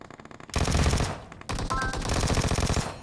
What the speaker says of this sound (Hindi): ये मैंने प्री फायर दिया और ये बंदा प्री फायर में नॉक हो गया।